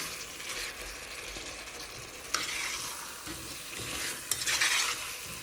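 Potatoes frying in a pan with a homemade spice mix for a ginger potato curry, a steady close sizzle broken by a few sharper stirring scrapes and crackles, with no talking.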